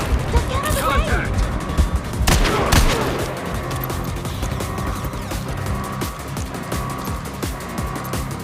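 Bursts of rapid gunfire crack from a Gangstar Mirage City shootout, loudest early and then tapering into scattered shots and background game noise, while voices call out over the action.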